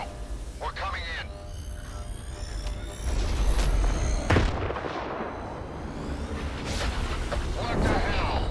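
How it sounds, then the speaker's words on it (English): A loud explosion goes off in STALKER 2: Heart of Chornobyl near a teleporter, a heavy low boom that swells midway through and rumbles on beneath radio-like voices and metallic game sounds. "An explosion."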